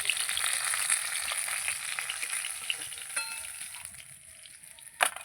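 Tilapia fish fries in oil in a pan with a continuous close sizzle, bubbling evenly, then easing down before a brief sharp clatter near the end; no talking.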